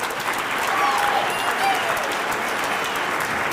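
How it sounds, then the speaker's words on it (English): Steady, dense applause from the audience at the 2001 Nokomis Regional High School spring concert. A broad, even wash of many hands clapping fills the hall throughout without letting up. "You can give him applause for that."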